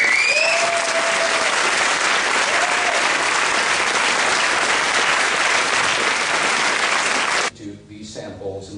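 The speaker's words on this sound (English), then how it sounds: "Can we have a round of applause for all of them?" A conference audience at a UFO incident anniversary event in Woodbridge claps loudly and continuously for about seven seconds, a dense crowd roar that stops abruptly, after which a voice begins speaking.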